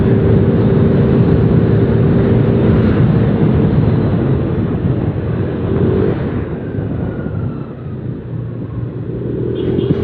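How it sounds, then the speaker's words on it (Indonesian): A Yamaha Aerox R 155 scooter revs hard at full throttle on a morning ride near Bogor, its loud, steady engine drone mixed with road and wind rumble, easing slightly toward the end. "Sampai mentok itu bener-bener dalam banget ini gua ngegas."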